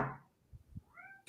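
A single short cat meow arrives in the middle, close and clear. Brief scuffs and handling noises surround it, and a louder sound cuts in at the very end.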